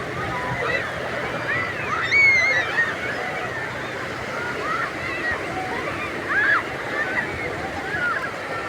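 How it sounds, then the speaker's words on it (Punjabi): Sea water washes at an English beach where small children bathe, a steady broad surf hiss under nearby chatter and children's voices, with occasional louder swells. "ਆਵਾਜ਼ ਦੇਖੋ ਪਾਣੀ ਦੀ ਕਿੰਨੀ ਹੈਗੀ"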